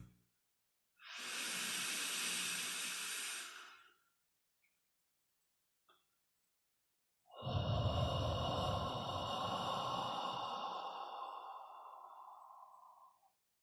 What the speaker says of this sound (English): Full awareness on your breathing as we breathe together to the count of 2.